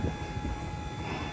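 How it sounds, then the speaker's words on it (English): Strong wind roaring and buffeting into an outdoor microphone beside a dump trailer, a loud rumbling low-frequency wash with irregular gusts, no voices. "the wind's ripping and roaring"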